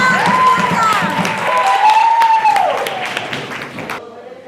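Children and adults at a school session break into rapid, scattered hand claps mixed with raised chanting voices, continuing for about four seconds before stopping abruptly.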